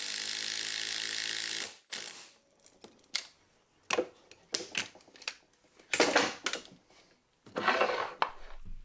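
A driver sets four screws to mount the jaw of a workbench vise, in close, intermittent bursts of whirring and ratcheting separated by short silences, with no speech.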